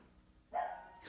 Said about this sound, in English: excuse my doggy